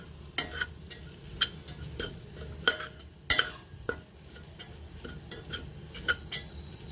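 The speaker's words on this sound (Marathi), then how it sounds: "आता हे मसाले पण छान वाटणामध्ये परतून घेऊया" Garam masala stir-fried into a ground spice paste for a stalk vegetable dish, heard as a soft low sizzle broken by irregular scraping clicks of a spoon against the pan, fairly quiet with no voices.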